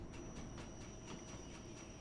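A London Underground Bakerloo line train in Train Sim World 2 brakes toward a stop, giving a dense, steady rolling rumble with faint rhythmic clicking and a thin high whine throughout.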